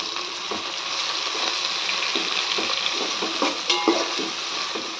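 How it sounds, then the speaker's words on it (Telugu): Green chillies and onions with spices stir in hot oil in a pan, a steady close sizzle with soft scraping strokes repeating throughout, with no talking. "మసాలాలు అన్నీ వేసేసుకుని తర్వాత పచ్చిమిర్చి, ఉల్లిపాయలు వేసుకుని బాగా కలుపుకోవాలి"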